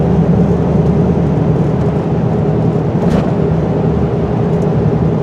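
Inside a Jeep WJ driving on the road, a loud, steady rumble of engine and tire noise fills the cabin, with rattles mixed into the drone and no one talking.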